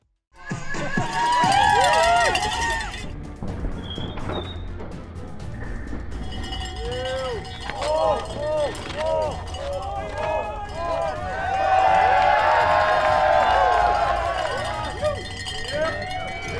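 Spectators at the Derby UCI Mountain Bike Enduro World Cup cheer and clang cowbells loudly as a rider passes, with whistles and shouts swelling and fading over a narrator's voice.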